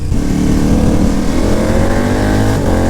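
Steady loud wind roar blends with a KTM motorbike engine droning at speed on a motorway, fitted with a Chevy shield extension and the helmet visor open, the engine pitch slowly rising, with no talking.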